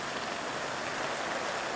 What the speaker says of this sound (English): sheets of rain start coming down